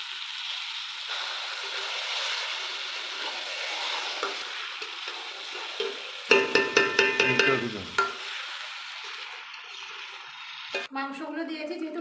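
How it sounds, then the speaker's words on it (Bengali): Spice paste fries steadily in a pan over a wood fire for goat meat curry, with a continuous sizzling hiss. Midway comes a burst of rapid scraping stirs, then brief clanks near the end. "এবার মশলাটাকে বেশ ভালোভাবে আমি ভেজে নেব"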